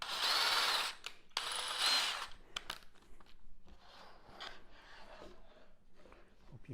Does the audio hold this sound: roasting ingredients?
no